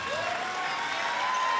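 Steady applause from a crowd at a high school basketball game, continuous and moderately loud with no breaks.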